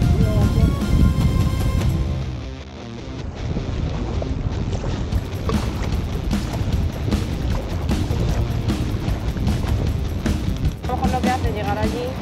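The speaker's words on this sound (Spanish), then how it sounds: "Estas olas ya no son como las olas de barquitos." Rough Atlantic Ocean waves surge around a small rowing boat, a loud continuous wash of breaking water with heavy wind buffeting the microphone throughout.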